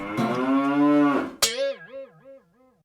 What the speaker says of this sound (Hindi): चाचा चौधरी की भैंस।